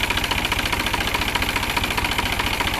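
A New Holland tractor engine idles with a steady, rapid diesel knock and a rough vibrating rumble, close and continuous, with no voices.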